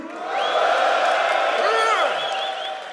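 Men in a comedy show audience cheering and whooping loudly, a sustained crowd roar with rising whoops, close and continuous throughout.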